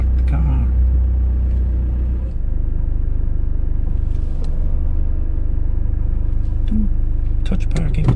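Car being driven into a parking spot, a loud low engine rumble that runs throughout, with faint scattered clicks and light background noise.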